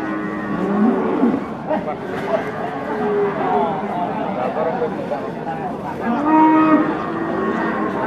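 Cattle at the Paingan cattle market moo loudly and close by, with several long calls that rise and fall against a busy backdrop of market chatter and people talking.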